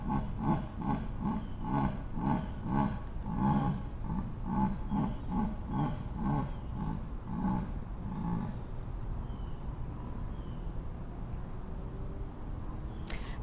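A leopard-like big cat at Big Cat Rescue gives a steady series of about fifteen rhythmic, grunting calls at an even pace. They stop after roughly eight seconds, leaving a low outdoor hum.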